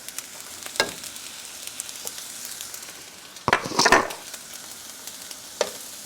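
Butter melting in a frying pan while fried rice is being made, a faint soft sizzle under a few sharp scrapes and clinks of a utensil against the pan.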